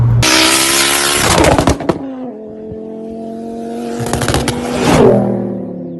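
A 2007 Ford Focus ST engine revs hard twice in quick succession, roaring and popping up through the gears, loud and close with crackling bursts between pulls.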